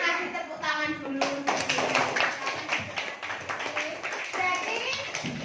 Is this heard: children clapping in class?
yes